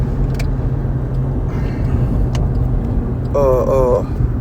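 A car drives along a road, its engine rumbling steadily close by throughout, with a brief rising whine or horn-like tone near the end and some voices faintly mixed in.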